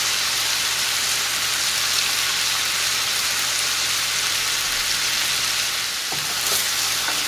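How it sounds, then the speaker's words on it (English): Chicken pieces with bits of butter frying in a pan, a loud, steady sizzle and crackle throughout, with a few faint clinks near the end. "So once you have all your chicken on your pan, which is going to be cooked here in the next 4 minutes, you want to add your bits of butter."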